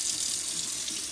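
Tap water runs steadily into a cup as the base for drinking oatmeal, a continuous close hiss and splash with no voices over it.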